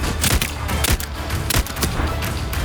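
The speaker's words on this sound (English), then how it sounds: "Did you not hear the guys shooting at us?" Enemies shooting in the video game Voidtrain, bursts of rapid gunfire crackling over a loud, dense in-game background, several volleys close together across a few seconds.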